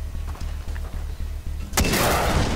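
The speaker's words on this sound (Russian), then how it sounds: "Мы стреляем с РПГ в мясо вообще." Muffled gunfire thumps repeat for a moment in the video game Far Cry 3, then a sudden loud RPG rocket blast erupts with a roaring, crackling tail.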